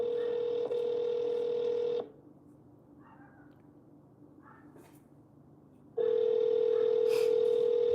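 An outgoing phone call rings back in two long steady electronic tones separated by a roughly four-second quiet gap, clear and close.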